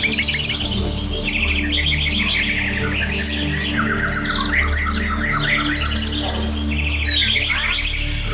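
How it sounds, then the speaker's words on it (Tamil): Birds chirping and tweeting steadily throughout, a dense layered chorus of calls used as a sound effect in a stage arts performance, playing over a low sustained musical drone. "பறவைகள் ஒலித்தன."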